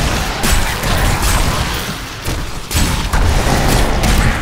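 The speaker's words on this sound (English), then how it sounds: "Shoot my green lasers!" Green laser attacks fire amid loud, continuous combat noise in the action role-playing game Diablo III, with booming hits and crashing bursts layered over one another and surging in waves.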